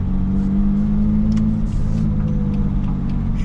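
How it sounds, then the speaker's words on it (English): A BMW E24 engine, freshly coaxed back to idle after sitting non-running, revs and rumbles steadily as the car drives off, loud and close with a low droning tone throughout. "I was finally able to get the car to idle on its own, so naturally, I took it out for its maiden voyage."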